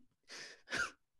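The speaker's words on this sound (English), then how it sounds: "Leon coughs his last breaths." During a stage play, a dying man gives two faint, breathy, rasping coughs in a quiet room.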